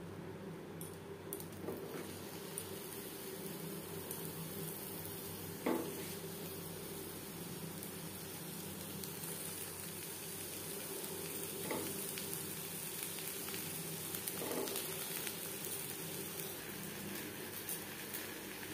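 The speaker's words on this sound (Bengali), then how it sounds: "পাতুরি আমি তৈরি করে নিয়েছি, এবার আমি সেঁকে নেব।" Bhetki fish paturi, brushed with a little oil, sizzles steadily on an iron tawa in a continuous, even fry that runs for a long stretch, broken now and then by soft clicks and scrapes.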